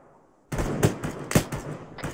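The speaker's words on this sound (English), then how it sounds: "They're hostile. They're shooting." Gunfire in Arma 3, starting abruptly after a quiet moment, with a few distinct shot reports about half a second apart over a rumbling, echoing tail, fairly loud and with no talk.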